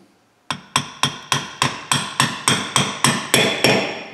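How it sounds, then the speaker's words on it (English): A hammer peens over a part on a Chevrolet front differential being set up with reused gears, striking metal about eleven times in a steady, even rhythm, each blow sharp and ringing, close by and loud. "We're gonna peen that one over."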